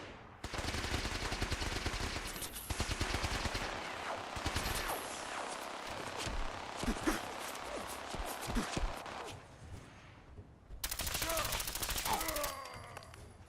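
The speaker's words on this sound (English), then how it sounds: "that's a minigun" A minigun in the video game Fallout 4 fires long sustained bursts of rapid automatic gunfire, loud and dense, cutting out briefly and then resuming with a final burst.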